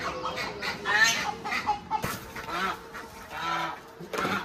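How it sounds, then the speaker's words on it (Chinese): Old ducks being caught and carried to the back of a rural yard let out loud, repeated quacks and squawks in quick, agitated bursts, close by. "现在把这个鸭子放到后面养。"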